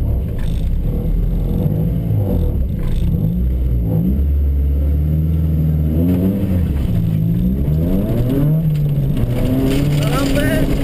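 A rally car engine drones and revs up through the gears during a rally stage, loud and close from inside the car, pitch climbing and falling repeatedly as a co-driver's voice talks over it.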